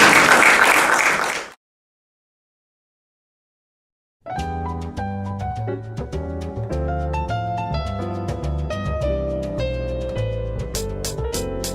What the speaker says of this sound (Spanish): brindémosles un fuerte aplauso al doctor Carlos Vargas por esta excelente presentación